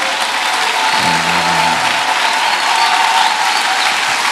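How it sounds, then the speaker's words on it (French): A church congregation clapping loudly for the Lord in sustained, dense applause throughout, with a brief voice rising above the crowd near the middle. "Maintenant, acclamez très fort pour le Seigneur."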